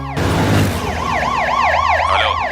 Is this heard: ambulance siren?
yes